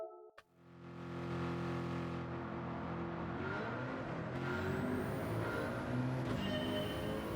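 Nissan R92 CP race car in Gran Turismo 7 at Suzuka Circuit: a short idle blip, then a loud, sustained engine roar climbing through the revs with audible gear shifts, close and continuous.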